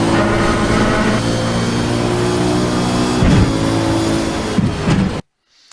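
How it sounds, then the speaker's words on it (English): A race car at Road Atlanta drones loudly at steady speed with the engine note close by, then runs over the rumble strip on the left side of the track, giving a few brief rattling bursts before cutting to silence. "We're going to use most of the rumble strip on the left-hand side of the track here."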